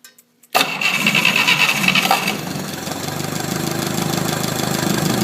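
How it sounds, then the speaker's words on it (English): An Atomic 4 marine gas engine on a sailboat cranks and catches after a brief quiet moment, then settles into a loud, steady, close idle with an even, rapid rhythm. "I'll start it up here again, and we'll take a quick look at the oil pressure"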